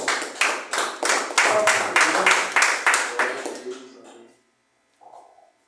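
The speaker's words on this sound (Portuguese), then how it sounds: "Na salva de palmas de Jesus Cristo, irmãos" A church congregation claps in a round of applause for Jesus Christ, a steady burst of rhythmic hand claps for about four seconds that fades out, followed by a brief faint voice.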